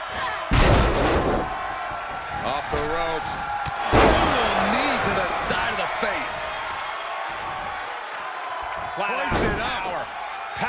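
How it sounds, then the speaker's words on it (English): Heavy slam impacts in a women's tag team wrestling video game match, with a loud thud early and more crashes later, under excited commentary and crowd noise. "Power bomb, and then a knee right to the face"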